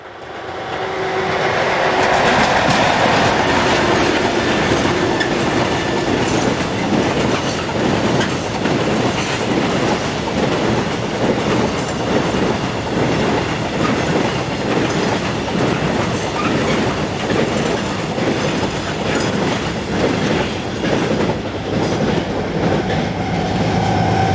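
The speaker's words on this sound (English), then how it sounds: "2608 heads north with a train of pipes and is passed by a brand new Class 77 diesel number 7766" A freight train carrying pipes rolls past while a brand-new Class 77 diesel locomotive passes on the adjacent track, giving a loud, continuous rumble with rhythmic clickety-clack of wheels over rail joints, close and sustained throughout.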